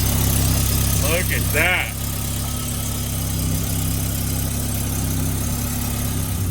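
An old car's engine, just started after a water pump repair, idles with a steady low rumble throughout, while a voice speaks briefly over it near the start.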